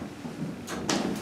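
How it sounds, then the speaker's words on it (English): A brief sliding rumble followed by a soft thud as a Montgomery hydraulic elevator's door glides shut in a JCPenney store at Woodbridge Center, New Jersey, heard over a low mechanical hum. "I love the immediate door close on this thing."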